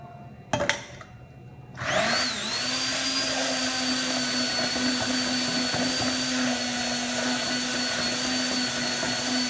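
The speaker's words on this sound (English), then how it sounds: "And then you're going to blend this up." A blender whirs steadily, mixing corn oil and vinaigrette at three parts oil to one part vinaigrette into an emulsion, starting after a brief clatter and holding a loud, even motor drone.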